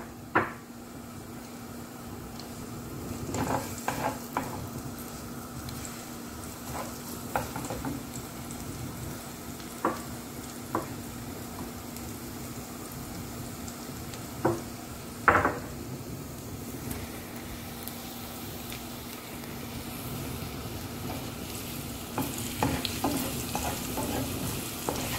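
Chopped garlic frying in a pan, a soft continuous sizzle with a low steady hum beneath and scattered clinks and knocks of utensils, moderately quiet throughout.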